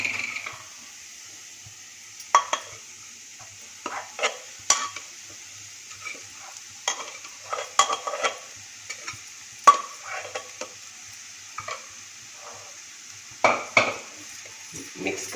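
A spoon stirs sautéed red pumpkin with cooked semolina for a traditional kheer in a pot, giving intermittent scraping and clinking strokes at an uneven rhythm over a faint, steady hiss.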